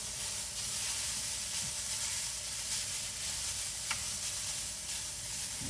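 Bolognese sauce base cooking in a pan, giving a steady broadband sizzle and frying hiss throughout with no pauses, close and moderately loud, with no talking.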